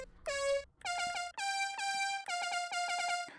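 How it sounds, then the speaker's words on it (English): A synth voice in a video game blares an air-horn-like tone in a rhythmic series of loud, sustained bursts with brief gaps between them. "This sounds like an air horn though."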